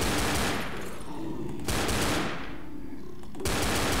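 Left 4 Dead gunfire crackles in dense automatic bursts in a subway setting, two loud rapid volleys separated by a brief pause, then a third burst starting.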